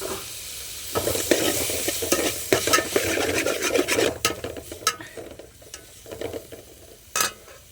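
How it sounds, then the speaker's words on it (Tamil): Tomatoes and curry leaves fry in a pan while a spoon stirs them, giving a steady sizzle with repeated scraping strokes and clicks against the metal, close and clear. "அடுத்தது தக்காளி போட்டுக்கலாங்க."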